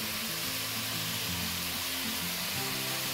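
Pieces of pork browning in a hot pan for sweet and sour pork, a splash of soy sauce added, give a dense, loud, continuous sizzle and hiss close by, no voices.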